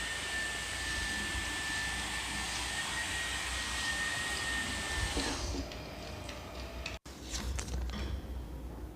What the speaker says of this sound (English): just simply blow dry your hair like this